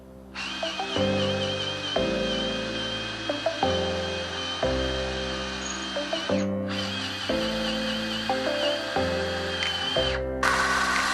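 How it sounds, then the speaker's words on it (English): A power drill pre-drilling holes for lag bolts in a wooden gate whines in long steady runs, starting and stopping several times, loud and close, with brief pauses between bursts. "make sure you pre-drill, you're going to split something"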